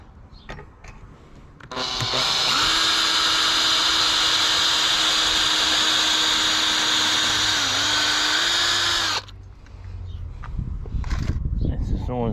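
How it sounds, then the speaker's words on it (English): Electric drill boring a screw-sized hole all the way into a timber part of a folding garden kneeler under repair: a loud, steady whine lasting about seven seconds with a slight dip near the end, with quieter handling noise before and after. "We're drilling all the way in with it."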